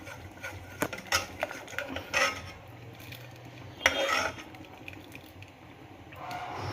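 A spoon stirs cooked dal in a pot, giving soft intermittent scrapes and rubs against the metal. Short bursts come at irregular intervals, fairly close but quiet.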